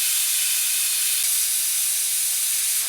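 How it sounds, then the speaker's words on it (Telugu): A pressure cooker on a stove cooking moong dal khichdi lets out a loud, continuous steam whistle, a steady hiss that holds for about three seconds, close and alone. "3 విజిల్స్ వచ్చాయి."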